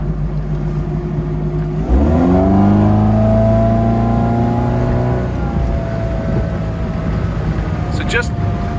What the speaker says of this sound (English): So let's put the boat on plane here now.